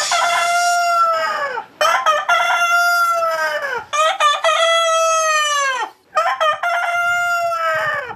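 A rooster in Sangli crows repeatedly in loud, close calls with strong harmonics. Four long crows come in succession, separated by brief pauses, with no talking.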